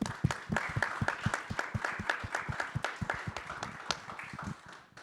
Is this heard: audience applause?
yes